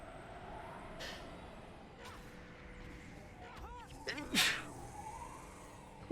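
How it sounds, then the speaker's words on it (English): A single sneeze from a streamer playing a Guild Wars 2 Skill Booster League match, a short burst about two-thirds through, over faint game sound and low room noise. "I needed to sneeze."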